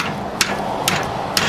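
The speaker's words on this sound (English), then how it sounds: "I don't want to get carried away hammering on this" Hammer driving a kingpin into a 1940 Ford front end, three sharp metallic taps spaced roughly half a second apart, close and fairly loud over a steady background hum.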